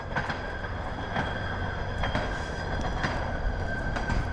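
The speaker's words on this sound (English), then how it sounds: "train track truck" A rail truck rolls along a train track, wheels clattering in a steady rhythm with periodic clicks at rail joints over a continuous rumbling drone, no talking.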